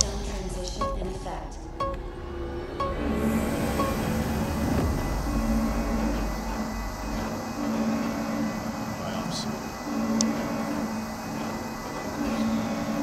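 Airlock cycling in the video game Rainbow Six Extraction: a heavy mechanical rumble and low hum with hissing and clanks building through the sequence, steady and fairly loud, with someone talking over it.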